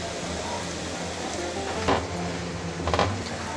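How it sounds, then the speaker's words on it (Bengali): Egg curry with sour yogurt and kasuri methi being stirred in a pan, a low simmering sizzle with two distinct scraping clinks of the spoon against the pan. "টক দই দিয়েছি, এখন নেড়ে চেড়ে দিচ্ছি।"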